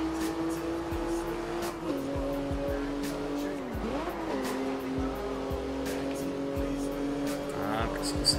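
Forza Horizon 2 game cars whizzing close past other traffic, with steady engine drone, sliding pitch sweeps and tire squeal, under ongoing commentary.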